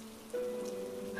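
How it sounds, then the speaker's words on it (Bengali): Heavy rain sound effect from a Bengali audio horror story: a brief, soft, steady wash of falling rain with a faint sustained tone running through it, quiet and alone. "তার সাথে বৃষ্টির বেগ বাড়ল আরো এক তমকা।"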